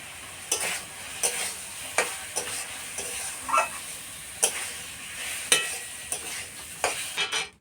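Fried egg and potato are stirred into a sizzling, almost-cooked spice mix in a pan, giving a soft steady fry broken by regular sharp scrapes and clinks of a spoon.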